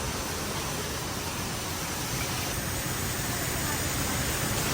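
Water pours down from overhead in a bathing spot, a dense, steady rushing hiss that runs unbroken and fairly loud throughout.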